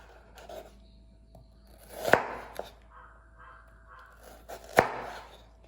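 Potato being cut into finger-sized pieces with a knife on a board, two sharp chops about two and a half seconds apart, close and moderate, with softer knocks and scrapes between them in a quiet kitchen.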